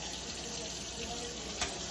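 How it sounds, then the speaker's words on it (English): A kitchen tap runs clean water into a sink to rinse washed alpaca fleece, a steady broadband hiss that stays even and unbroken throughout. "So I'm going to go ahead and run some clean water."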